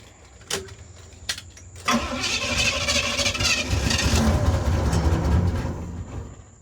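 A 1977 Pontiac LeMans engine cranks after a couple of sharp clicks, then catches into a loud, close, steady rumble that holds for several seconds before easing slightly.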